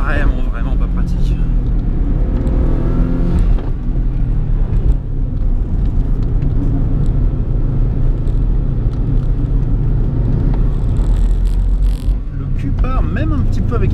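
A Subaru accelerates on a mountain road with a steady, loud engine rumble and road noise throughout, while someone talks over it in French.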